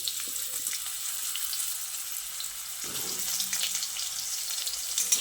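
Cut potatoes fry in hot oil tempered with whole spices, a soft steady sizzle running throughout, with faint occasional clinks and stirring in a quiet kitchen.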